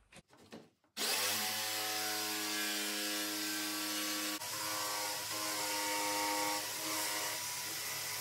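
A power saw fitted with a fine blade slowly cutting a wooden bulkhead panel inside a narrowboat, a brief knock before the motor starts, then a steady loud whine whose pitch drops slightly partway through the cut.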